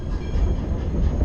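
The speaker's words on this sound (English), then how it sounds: "we recommend that you face towards the back of the steam train as we go through" A preserved steam train runs along a standard gauge short line in Nevada, giving a loud, close, continuous low rumble of rolling wagons with no talking.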